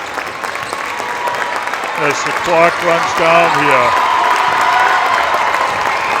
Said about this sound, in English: North Quincy parents are getting up and cheering on the girls